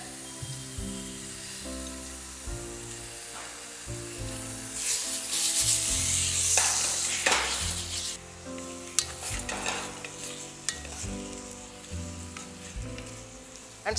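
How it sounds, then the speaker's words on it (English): Shell-on deveined prawns fry in a pan while being stirred, with repeated scraping strokes over a steady hiss and several louder bursts of sizzling spatter. "And stir it nicely."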